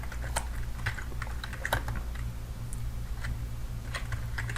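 Fingers tap out a command on a computer keyboard in a quiet room, a close, irregular run of light clicky keystrokes over faint background hum.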